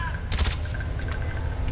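A short burst of video game gunfire in Call of Duty Black Ops, with a few rapid shots in the first half, heard alongside faint voices and a steady background hum.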